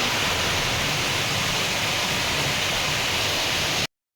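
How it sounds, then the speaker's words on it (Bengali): Heavy rain pours steadily outside a balcony, a dense, loud, unbroken hiss that holds constant for about four seconds before cutting off abruptly. "খুব জোর বৃষ্টি নামলো একটু সময়ের মধ্যে ভালো বৃষ্টি চলে এসেছে"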